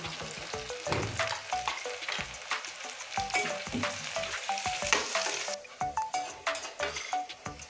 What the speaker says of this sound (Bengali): এখন আমি এই পেঁয়াজগুলো ভেজে নেব বেরেস্তা করার জন্য।